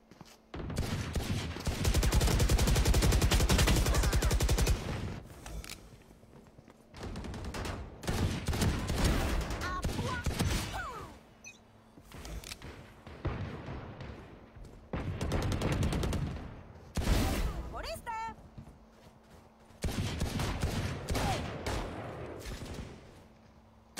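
Gunfire in an online shooter video game plays as repeated bursts of rapid automatic fire, some long and some short, loud and close, separated by brief quieter gaps.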